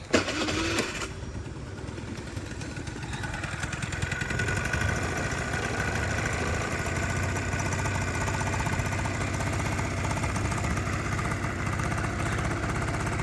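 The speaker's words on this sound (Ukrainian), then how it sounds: "Ну, двигунчик рівненько працює." A Honda Dio AF-34 scooter engine idles evenly nearby, a steady mid-pitched putter with a constant rhythm and no surges, running alone for the whole stretch without any talking.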